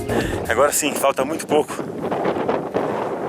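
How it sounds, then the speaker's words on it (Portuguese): Strong, cold wind with drizzle and fog buffets the microphone at the summit of Pico das Agulhas Negras, a continuous gusty roar under a person speaking Portuguese nearby. "O vento já está forte, frio mais intenso, garoa, cerração"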